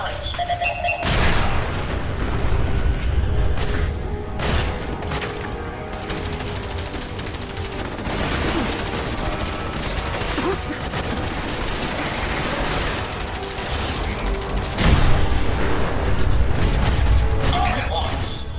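A video game turret fires sustained bursts of rapid gunfire mixed with booming blasts and mechanical noise, loud and nearly continuous, with voices talking over the barrage.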